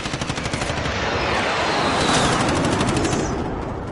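Rapid automatic gunfire from a shooter video game rattles in loud, continuous bursts, close and dense throughout.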